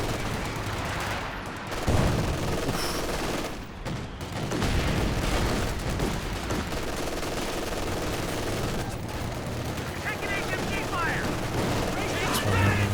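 Dense gunfire and machine-gun bursts during a big infantry assault backed by pack howitzers in a Company of Heroes 2 2v2 match, loud and continuous with occasional booms, under a commentator's voice.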